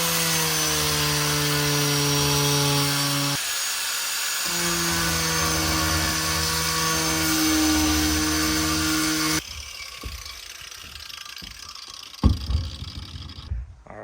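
A power tool saws into the foam core of a Hydrostream V-King boat hull. A loud, steady whining cut runs for about nine seconds, followed by quieter scraping and knocking.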